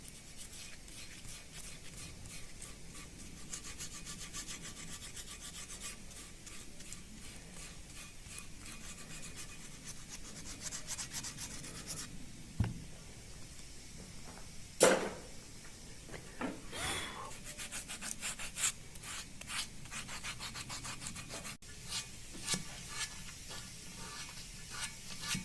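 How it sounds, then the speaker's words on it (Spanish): Hand sanding of carved stone with wet sandpaper, a quiet steady rubbing rasp that continues throughout with a few brief louder scrapes near the middle, no talking. "Se van gastando las lijas,"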